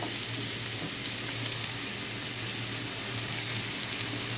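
Chopped onion and garlic frying in oil in a pan for lentils, a steady close sizzle with faint crackles and no voices.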